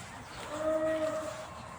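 A farm animal on a farm in Unaizah, Saudi Arabia, gives a single drawn-out bleating call lasting about a second, fairly close and clear, with no talk.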